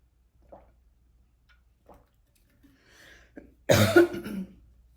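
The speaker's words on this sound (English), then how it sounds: "I hope this coughing isn't hurting your ears" A woman alone in a quiet room: a few soft small throat sounds and sips, then one loud, close, harsh cough burst near the end.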